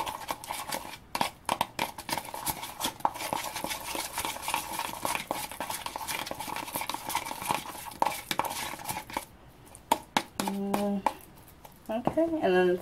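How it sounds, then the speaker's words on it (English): A spoon stirs homemade face mask ingredients in a small bowl, scraping and clicking in quick irregular strokes, with a few brighter clinks near the end. "So I'm just going to mix that all."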